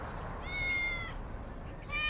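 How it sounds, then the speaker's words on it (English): A cat named Myra meows on a cold tile roof, giving two drawn-out mews a second apart, heard fairly close over steady outdoor background noise. "Meet Myra, the cat on a cold tile roof."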